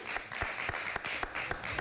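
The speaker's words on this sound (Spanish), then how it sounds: "Un aplauso para él." A studio audience at a televised Peruvian entertainment contest applauds, a fairly quiet patter of claps with a few sharper, distinct hand strikes punctuating the steady sound.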